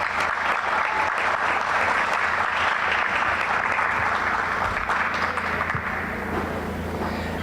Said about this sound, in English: Let's give Naomi one last round of applause.